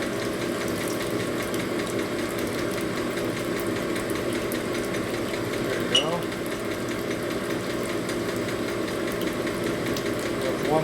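A Kwik-Way boring bar cuts a 1978 Harley-Davidson Shovelhead FL/FX offset cylinder, giving a steady whirring machining drone with a faint mechanical ratchet-like undertone, continuous and close throughout, with a brief sharp tick near the middle.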